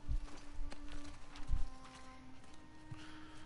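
Horse hooves clip-clop in the game Uncharted: The Lost Legacy, a few soft low thuds spaced irregularly under a steady hum, faint and fairly close.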